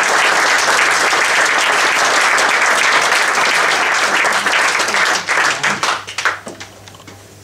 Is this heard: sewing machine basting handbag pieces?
no